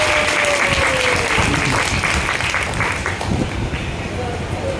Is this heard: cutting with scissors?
no